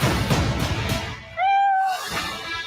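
A Persian show cat gives a single clear, drawn-out meow close by, rising and falling over about half a second, set against background room noise and faint clattering.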